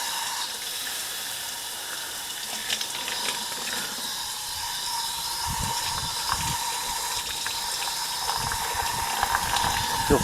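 Water sprays steadily from the water gun at an RV park dog washing station fed by a hot spring, a constant close hiss with some brief splashing bursts toward the end.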